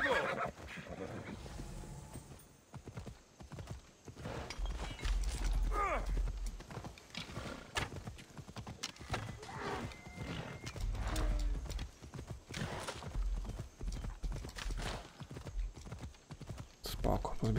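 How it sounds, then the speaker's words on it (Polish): Horse hooves clip-clopping and a horse neighing in the Assassin's Creed Odyssey video game, steady hoofbeats up close with in-game creaks and someone talking over them. "ten koń się chyba nie kwapi, żeby do nas biec"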